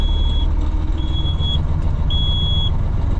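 A diesel truck engine with about 357,000 kilometers runs loud and close, revved to a steady higher idle to build air pressure, while a high intermittent beep or whine repeats over the rumble.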